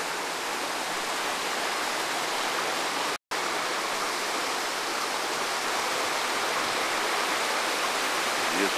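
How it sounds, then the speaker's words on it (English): Water rushes steadily in a dense, continuous hiss and roar, spilling down from a brook near a dam, with a brief cutout partway through. "You can hear the water coming down from that brook I told you about"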